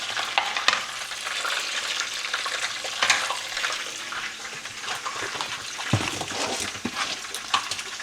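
Green onions fry in a pan until golden, making a dense, steady close sizzle broken by occasional stirring clicks and a brief thump, with no speech.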